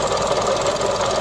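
Belt tensioner noise from the running engine of a Mazda CX30, a steady rough mechanical whirring hum with a continuous knocking texture close by, with no talk.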